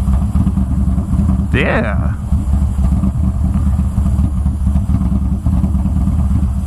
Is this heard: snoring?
no